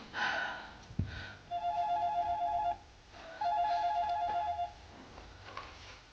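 A telephone in a home rings twice in a close, electronic warbling trill, each burst lasting about a second, with a short pause between them and faint room rustle and a thump nearby.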